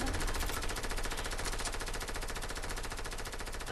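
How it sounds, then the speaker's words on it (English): Sustained, loud, continuous SMG fire in Fortnite, rapid shots blurring into one unbroken spray of gunfire from start to finish. "Who is just spamming their SMG?"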